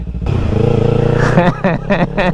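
A Kawasaki Ninja 300 motorcycle engine idles steadily up close, then revs in several quick sharp blips toward the end, with a rider's voice mixed in.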